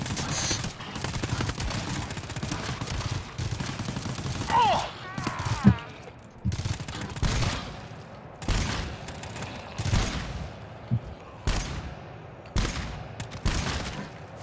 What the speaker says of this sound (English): You can open fire now.